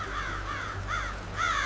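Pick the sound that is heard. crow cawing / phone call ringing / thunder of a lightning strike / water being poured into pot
crow cawing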